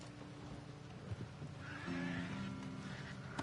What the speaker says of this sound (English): There's some pretty angry horse outside